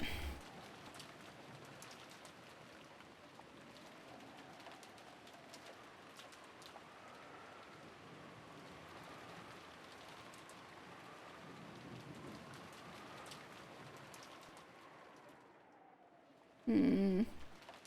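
Steady rain pours down throughout, a dense hiss with low rumbling thunder in the background, and a sudden loud burst near the end, with no talk over it.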